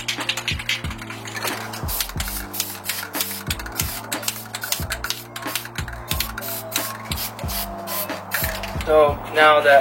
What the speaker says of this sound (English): let's go outside and sand these down and give them a spray of paint